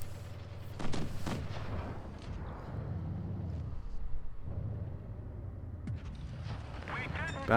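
Tank cannon fire in the World of Tanks Blitz game, from an American tier 5 Wolverine tank destroyer battle against an M3 Lee, with heavy booming shots over a constant engine rumble while someone talks over it.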